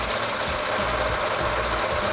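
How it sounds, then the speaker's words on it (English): A serger overlocks a raw fabric seam on an old dress being turned into a wrap skirt, a steady loud rapid mechanical chatter with a low motor hum running unbroken throughout, close up and with no talking. "I'm also going to serge it."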